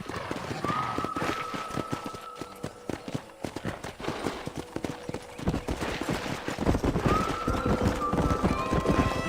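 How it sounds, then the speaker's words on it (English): Rapid hoofbeats of wild horses galloping close by, with a horse whinnying twice over the steady pounding rhythm, from the video game Red Dead Redemption. "That ranch hand said there's a pack of wild horses nearby."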